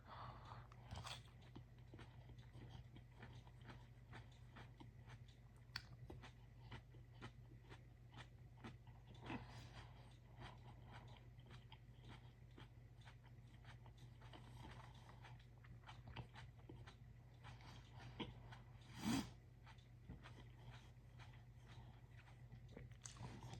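Someone bites into and chews a giant superhot pepper, producing quiet, crisp, repeated crunches at an uneven rhythm over a faint low hum, with one louder bite near the end.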